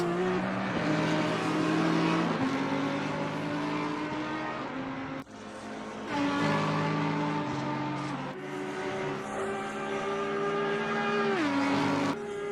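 GT3 race cars at Spa in Assetto Corsa Competizione, engines droning and shifting through gears with rising and falling pitch, several cars close together in a continuous loud roar.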